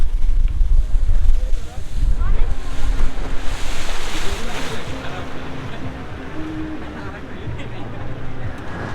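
A short boat ride on the water at Subornogram amusement park and resort, with loud rumbling wind and water noise buffeting the microphone and voices mixed in, easing slightly toward the end.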